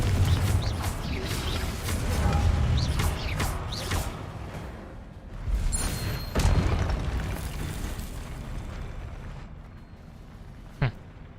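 A Confringo blasting spell explodes in Hogwarts Legacy, heard as layered booms and whooshing bursts over a continuous rumbling game soundscape, with a sharp pop near the end.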